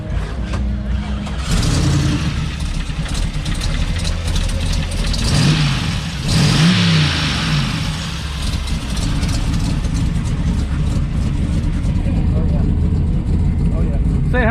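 Classic car engine at a car show idling loudly up close, then revving in a couple of rising and falling swells before settling back to a rumbling idle, with voices talking over it.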